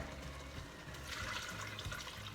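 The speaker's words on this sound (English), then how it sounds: "pour some hot water so it'll cook, and I'll cover it up" Hot water poured into a pot of beef stew on a stove at medium-high heat, a steady liquid pour with gurgling and splashing that swells in the middle, heard alone and fairly quiet.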